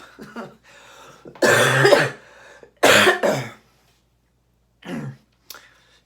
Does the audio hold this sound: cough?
yes